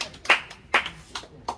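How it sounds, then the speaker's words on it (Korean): Several people clap at a local preparatory committee meeting in Dangjin for a memorial cultural festival, with four sharp, separate claps spaced about half a second apart, close and fairly loud with no talk. "힘내시고 박수 한 번 더 해주십시오."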